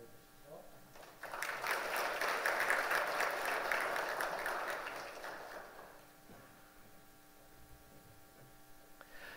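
Church congregation applauding during a Sunday worship service, a swell of many hands clapping that rises quickly, holds for a few seconds, then fades away into a quiet room with faint hum.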